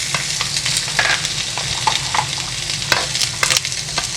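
A burger fries in a pan with butter, sizzling steadily and loudly up close, with occasional scraping and stirring taps against the pan.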